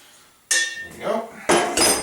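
Dry ingredients are stirred into a wet batter for pumpkin bars in a bowl, with a few sharp clinks and scrapes of a utensil against the dish in quick bursts, close by.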